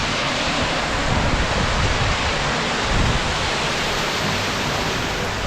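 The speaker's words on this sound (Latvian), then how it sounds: "Te ir ūdenskritums." Waterfall at Kjerag in Norway, a steady, loud, broadband roar of falling water that holds constant throughout with no pauses, mixed with some wind rumble against the microphone.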